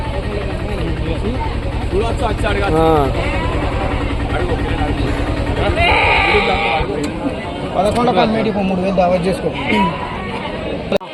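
Sheep and lambs bleat repeatedly at a busy livestock market, their wavering calls close and prominent amid a constant crowd chatter and people talking nearby.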